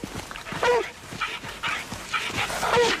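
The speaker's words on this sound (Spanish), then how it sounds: "Eso es, busco. Buen perro." A tracking dog whimpers and whines while following a scent on a search, high nasal cries coming in short repeated bursts close by, mixed with sniffing and panting sounds.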